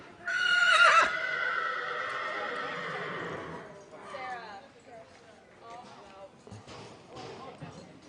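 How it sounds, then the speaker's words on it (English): At a Kentucky horse sale, a filly being walked forward lets out a loud whinny at the start, followed by hoof clip-clops and people talking in the background. "Can you walk her forward for me, Jeff? Come on, girl. What a beautiful filly"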